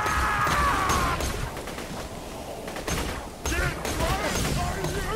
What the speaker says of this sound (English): My gun fires two bolts at once?